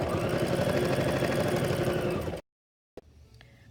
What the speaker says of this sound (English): We're going to sew all the way around.